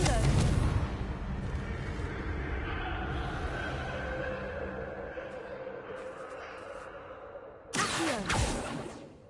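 A Confringo blasting spell fired in Hogwarts Legacy: a sharp burst at the start, a sustained rumbling whoosh, then another loud blast near the end amid game ambience.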